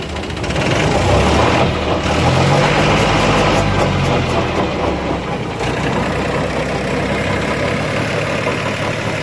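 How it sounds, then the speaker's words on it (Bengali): A John Deere 5055E tractor engine runs loud and close with a rotating plough, a steady diesel rumble that swells slightly early on and stays constant throughout. "দেখলেন লাঙলটা ঘুরতেছে"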